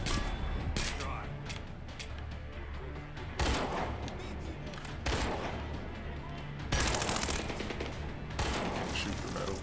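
Rapid automatic gunfire in a video game: sustained loud bursts and volleys with clanging impacts, dense and near, with brief pauses between sprays and some talk over it.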